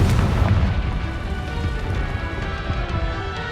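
A Confringo fire spell detonates in a Harry Potter wizarding game, a loud close blast that decays into a rumbling, crackling tail of scattered debris over a few seconds.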